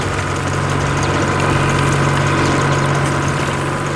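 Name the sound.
tractor engine running while working a field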